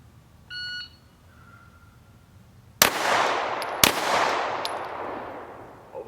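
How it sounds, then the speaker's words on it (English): A shot timer gives a short electronic beep, then two sharp pistol shots ring out about a second apart at a shooting range drill, close and loud, each trailing off in a reverberant echo. "You have 3 seconds to fire 2 headshots."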